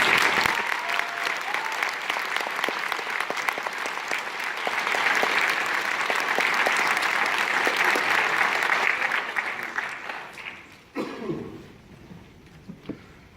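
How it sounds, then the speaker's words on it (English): An audience at a band concert gives the players a big round of applause, loud sustained clapping that swells, then fades out after about ten seconds into a few scattered claps and quiet. "If we could give them all a big round of applause."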